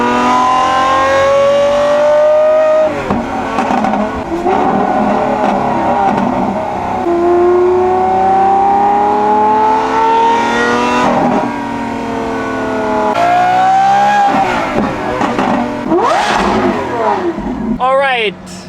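Loud revving of a stock Lamborghini Aventador SVJ Ultimae with a full F1 exhaust, echoing off nearby buildings: several rising and falling rev sweeps with sharp crackles between them, close and continuous throughout.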